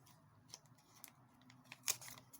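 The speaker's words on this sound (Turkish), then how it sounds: "Şuradan makasımızla keselim." Scissors snipping adhesive tape during a Xiaomi Redmi Note 8 battery replacement, heard as a few faint, crisp cuts and small crinkles close up in a quiet room, with one sharper snip near the end.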